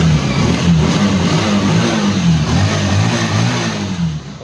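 A Bajaj Pulsar 150 motorcycle engine runs continuously up close, a steady loud rumble with slight rises in revs, heard alone without talk during an accelerator cable repair.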